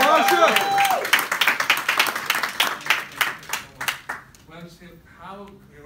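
Audience applause greets a speaker walking onto the stage at a mind-set training event, a dense burst of clapping that thins out after a few seconds as a voice starts talking.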